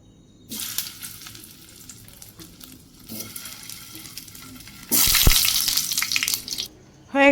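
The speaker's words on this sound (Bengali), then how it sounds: "হয়ে গেছে আমার চিজ বল ভাজা।" Cheese balls frying in hot oil give a steady sizzle that swells into a loud, bright burst of crackling near the end, with clattering and watery sounds in a home kitchen.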